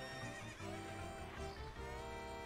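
A horse in The Legend of Zelda whinnies over a steady clip-clop of hooves, loud and close, with game music layered underneath and no voices.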